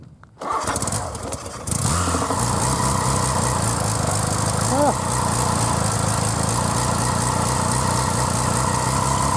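A Norton rotary-engined motorcycle with twin SU carburettors starts up and settles into a steady, loud, close running drone with a brief rev partway through, while a voice can be heard briefly.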